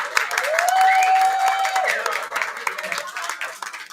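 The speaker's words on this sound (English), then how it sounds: "let's give them a round of applause, everybody" A crowd applauds the DeSoto High School dancers with steady, dense clapping and cheering, a whistle and voices mixed in, and the clapping thins toward the end.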